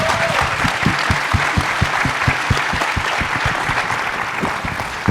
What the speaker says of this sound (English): Ladies and gentlemen, a round of applause for our panelists.